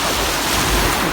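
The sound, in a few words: sea waves on a Crimean beach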